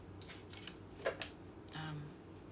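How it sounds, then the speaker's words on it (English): Tarot cards rustle and flick in a few quick riffling bursts with soft clicks, close by and fairly quiet over a faint background hum. "so I'm just going to do a good faith shuffle"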